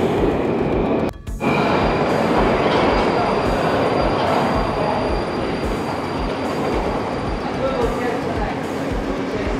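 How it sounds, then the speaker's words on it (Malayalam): A Moscow Metro train pulls into an underground station, its wheels and cars rumbling loudly and steadily with a brief sharp break near the start, while a voice speaks faintly underneath. "നല്ല അടിപൊളി ട്രെയിനാണ് ഇപ്പോൾ ഇതിൽ വന്നിരിക്കുന്നത്"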